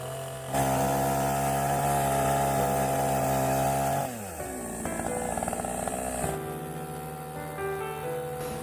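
Engine chainsaw cutting through a 50-year-old larch tree, a loud, close whining drone that holds steady, drops in pitch as the bar bogs into the wood, then revs back up.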